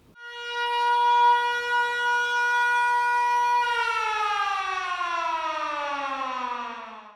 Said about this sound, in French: Petite sirène.